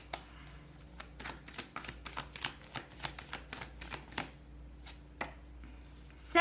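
Tarot cards are shuffled by hand in a quiet room, giving a string of crisp, close riffling slaps and flicks at an uneven rhythm, with no talking.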